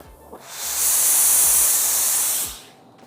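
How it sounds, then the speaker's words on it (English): A Laurastar S Pure Xtra steam iron releases a single loud burst of hissing dry microfine steam that swells, holds for about two seconds, then cuts off, with a faint click before it. "Like all Laurastar irons, the S Pure Xtra has the same powerful dry microfine steam."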